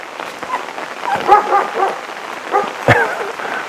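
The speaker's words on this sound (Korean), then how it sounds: "잠시 개가 방송을 방해를 했습니다" A dog lets out a few short, sharp barks and yips at moderate distance over a soft, patter-like background hiss, with no speech.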